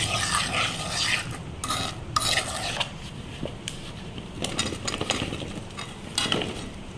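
A mango pickle mixture of chopped raw mango pieces is stirred and tossed in a bowl, giving wet scraping and squelching strokes in irregular bursts at close range, with no talk.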